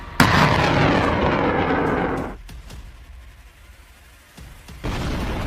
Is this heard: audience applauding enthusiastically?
no